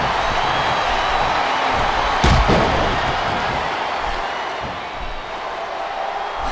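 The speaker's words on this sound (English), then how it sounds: "I love hearing the crowd come alive." A wrestling arena crowd roaring in the Smackdown vs RAW 2007 video game during a SummerSlam 2007 match, a loud continuous wash of cheering broken by one sharp slam of a body hitting the mat partway through.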